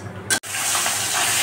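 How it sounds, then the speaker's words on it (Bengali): Dried lentil dumplings frying in hot oil give a short burst of sizzling hiss, broken by a brief drop to near silence before the frying resumes at a steady, moderate level. "ডালি বড়ি ভাজা হচ্ছে"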